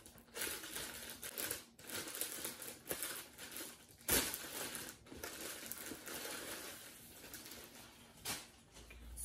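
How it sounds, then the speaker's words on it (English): Crinkly rustling of a plastic bag as clothing is pulled out of it, a close, fairly quiet run of crackles and crumples with small bumps and no talking. "Move these out of its plastic bag."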